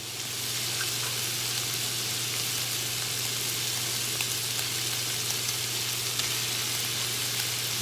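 Roughly chopped vegetables frying in a pan for stuffed shells, a constant close sizzle and crackle with a faint low hum beneath, unbroken for several seconds.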